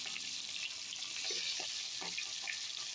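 Fish frying in a pan of oil: a steady, close hiss and crackle of bubbling oil running throughout, with a few soft scrapes or bumps mixed in and no voices.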